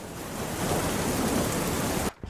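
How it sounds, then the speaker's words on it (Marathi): Steady, dense rain hisses continuously at an even level, then cuts off abruptly just before the end. Heard during a Marathi stage drama about farmers. "चांगला पाऊस झाला बाबा"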